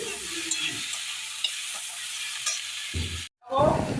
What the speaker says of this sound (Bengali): এবার আদা রসুনটাকে ভালোভাবে কষিয়ে নেব, যাতে কাঁচা আদা রসুনের গন্ধটা চলে যায়।